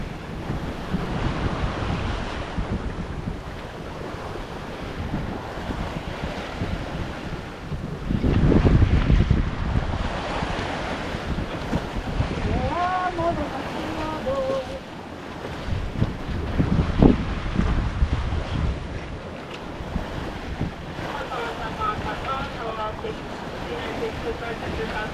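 An Island Packet IP420 sailboat under way in light wind far offshore, with steady rushing waves and wash along the hull, gusty wind buffeting the microphone, and occasional faint voices or radio chatter in the background.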